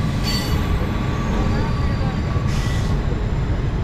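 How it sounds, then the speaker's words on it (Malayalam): Netravati Express train at Shoranur Junction: steady rumble of rolling wheels and carriages with brief high squeals, heard under a crowded platform's chatter. "ആ കാണുന്നത് തിരുവനന്തപുരത്ത് നിന്ന് ലോകമാന്യ തിലകിലേക്ക് എല്ലാ ദിവസവും സർവീസ് നടത്തുന്ന നേത്രാവതി എക്സ്പ്രസ് ആണ്"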